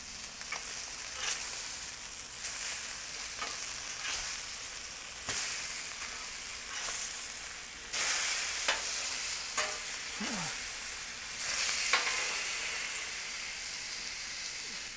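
Ribeye steaks sizzling loudly on a Blackstone griddle after being flipped, a steady crackling hiss with intermittent scraping and spatula taps throughout.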